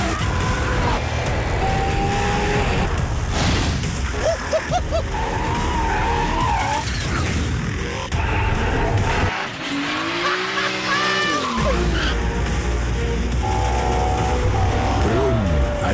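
A car skids with loud, sustained tire squeal and a revving engine, close and continuous, with one brief dip in the middle before the screeching resumes.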